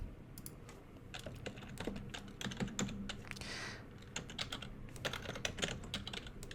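Fingers type on a computer keyboard in irregular clusters of light, crisp clicks. The keystrokes sound close but fairly quiet and continue steadily, with a brief soft swishing sound partway through and no talk.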